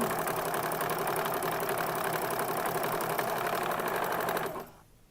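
A sewing machine winding a bobbin at full speed gives a steady, loud, rapid mechanical whir that runs unbroken for several seconds, then cuts off abruptly into quiet, with no talk.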